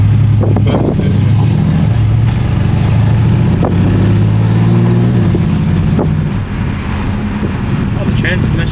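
A car accelerates hard with quick transmission upshifts, a loud droning engine note stepping through gears under heavy wind buffeting, with people talking inside the cabin.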